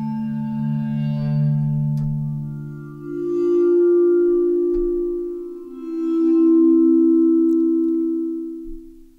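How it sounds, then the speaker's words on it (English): Sustained bowed vibraphone sample layer in an Omnisphere synthesizer, glassy and ringing, with three long swelling tones that rise and fade one after another, alone without talk. "So on layer B, we're using this bowed vibes sample."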